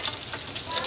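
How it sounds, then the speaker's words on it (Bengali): Rohu fish pieces frying in hot oil, a dense, steady close-up sizzle with constant crackling throughout a short moment. "ফ্রাই করে নিচ্ছি"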